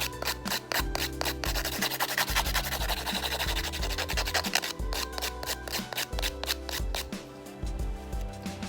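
A handheld nail file rasps back and forth across a fingernail in quick, close, rhythmic strokes, short bursts of scratchy friction running steadily with brief pauses and no talking.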